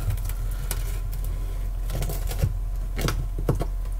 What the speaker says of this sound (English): We've got a really nice golden crust on the pizza. Nice and crispy. When we cut into this,